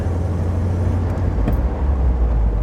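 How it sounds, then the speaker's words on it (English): A 1979 Triumph TR6 engine rumbles low and steadily while the car is driven through its gears, with a brief sharp click partway through and no voices. "You get a little video rolling through the gears."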